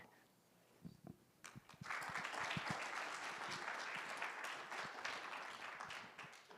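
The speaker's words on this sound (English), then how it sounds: "So we can give them another round of applause." At a guide dog graduation ceremony, a few scattered claps swell into full audience applause, a broad, sustained roar of many hands that holds steady for several seconds at moderate distance.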